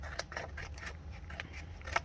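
Scissors cutting paper for a fairytale-themed Dutch door journal spread, a quiet, close series of short crisp snips and paper rustles in quick succession.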